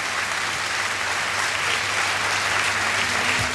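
Steady, dense audience applause fills the whole stretch at the 1998 European final of the Portuguese singing contest Chuva de Estrelas, greeting the Swedish jury, with no voices over it.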